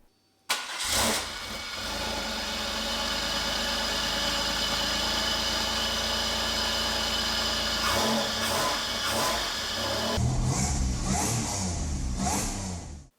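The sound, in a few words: Pontiac Fiero 3800 supercharged engine cold start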